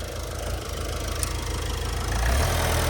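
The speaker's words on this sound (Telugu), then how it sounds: "ఇంజన్ దీనికి స్టార్ట్ చేసిండు మనోడు చెప్పక చేయక" A car engine idles right after being started, a steady low rumble close by with a slight rise in intensity toward the end; no speech.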